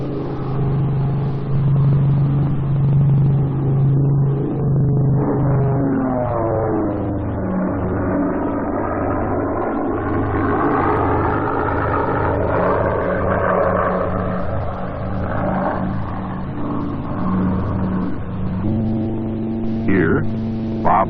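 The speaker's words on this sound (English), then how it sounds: "the Shrike touches down on one wheel, does a roll, then touches down on the other wheel during the same pass down the runway" An Aero Commander Shrike twin-engine aircraft makes a low pass down a runway, with a steady, loud engine drone whose harmonic pitch slides and shifts throughout the pass.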